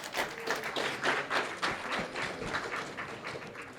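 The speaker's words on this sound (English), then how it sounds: "Round of applause." Conference audience on the last day of an event claps in a modest round, individual hand claps audible in an uneven rhythm, moderately close and fairly quiet, with no talking.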